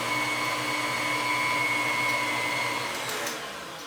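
Dressing made from scratch with Parmesan cheese and salt is blended by a steady, loud electric whir that holds constant for several seconds, then drops slightly in level near the end.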